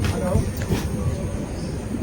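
A passenger train on a Kerala route rumbles along the tracks with a low, continuous roar and faint rattling, heard from the open doorway.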